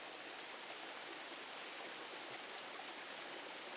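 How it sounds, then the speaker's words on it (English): Rushing water pours steadily without pause, a dense, even roar like a waterfall or fast stream nearby, with no voices. "we can hear the sound of a waterfall"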